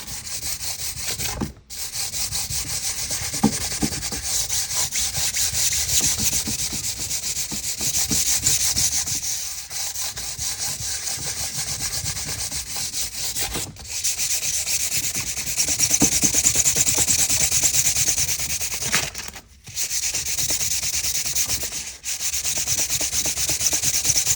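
Guitar frets are sanded level, a steady close rasp of abrasive on metal in long back-and-forth strokes. It runs almost without pause, breaking only for a few brief gaps, with no voices.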